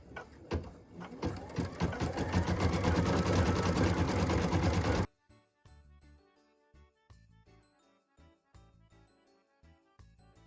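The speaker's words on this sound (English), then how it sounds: "we can go ahead and stitch the cute detailed lines" An embroidery machine stitches detail lines in medium green thread on a Christmas ornament: a loud, rapid, steady run of needle strokes for about five seconds, then it stops, leaving sparse, quieter clicks and taps.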